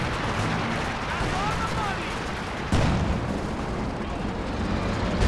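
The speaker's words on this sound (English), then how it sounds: "Here comes the 240mm artillery." Heavy 240mm artillery fire in a World War II strategy video game, a dense continuous rumble of booms with a sharp louder blast midway, followed by sustained roaring barrage.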